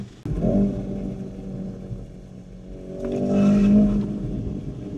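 Engine of a 4x4 car revving in Marbella, a rumbling idle that surges twice into rising revs, with the second push building louder before easing off, no talking.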